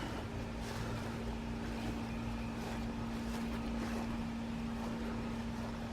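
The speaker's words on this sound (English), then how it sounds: "I'm gonna let y'all see it right now." A Yamaha TTR230 dirt bike engine runs at a steady idle, producing a faint, continuous low hum with a breathy rush that stays constant throughout.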